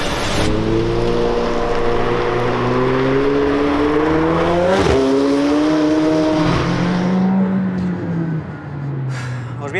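A McLaren 720S sports car drives with a loud, steady engine note that climbs in pitch, drops as it shifts gears, then rises again, heard from close inside the car throughout.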